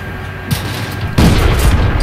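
Two heavy booms from tank cannon fire in World of Tanks, the first a sharp crack and the second a louder, deeper blast that rumbles on to the end.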